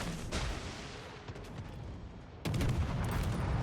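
Destroyer guns booming in a naval battle in World of Warships Legends: scattered distant shots and rumbling, then a louder burst of rapid gunfire near the end.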